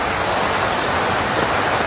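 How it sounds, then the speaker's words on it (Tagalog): Heavy typhoon rain pours down in a loud, dense, unbroken roar of falling water, close and constant with no voices. "Ang lakas ng ulan."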